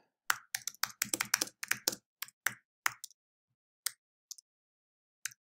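Typing on a computer keyboard, a quick burst of close, crisp key taps that slows into scattered single clicks with quiet gaps between.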